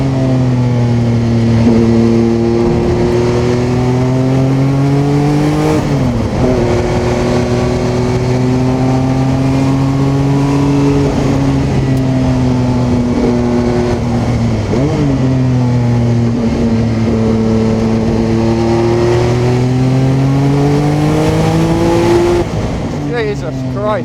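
Porsche 962C turbocharged race car engine revving loud and close from the cockpit, repeatedly climbing through the gears with rising pitch, brief dips at each shift around six, fifteen and twenty-two seconds, with a driver speaking over it.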